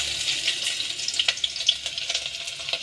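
Garlic and dried red chillies sizzle in hot tempering oil for a Telugu dosakaya pappu charu, a steady close hiss broken by frequent sharp crackles and pops.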